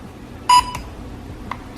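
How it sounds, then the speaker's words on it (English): A single short electronic beep from a DJI Mavic Mini drone controller entering pairing mode sounds over low background hum, followed by a couple of faint clicks. "until you hear it beep"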